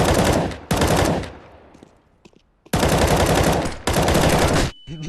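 Loud, sustained bursts of automatic gunfire from the Counter-Strike video game come in long stretches broken by a short lull with a few scattered shots, and there is no talk.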